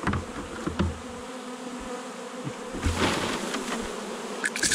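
A swarm of honey bees buzzes close by in a dense, continuous drone as it is captured during a May beekeeping job. There are a few handling knocks and a louder swell partway through, with no talking.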